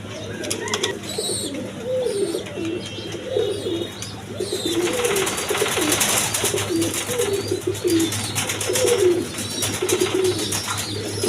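A pair of Chuya Chandan pigeons coo close by in repeated soft, throaty calls that go on through the whole stretch, over a low constant background hum.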